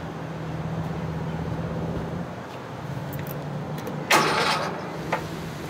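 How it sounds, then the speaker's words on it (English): A generator with an electric starter cranks and catches partway through, a short loud burst of starting noise rising over a steady low hum and background drone, then settling back. "I'm gonna start up the generator"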